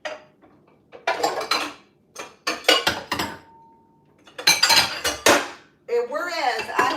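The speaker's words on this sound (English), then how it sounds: "some of these things are going in the dishwasher" Dishes, pots and cutlery clatter and clink in bursts as they are stacked into a kitchen dishwasher during a cleanup, with short quiet gaps between the loud, sharp knocks and scrapes.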